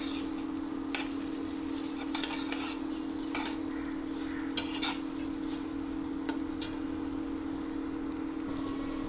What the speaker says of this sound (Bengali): পেঁয়াজটাকে একটু হালকা করে লাল করে ভেজে নেব।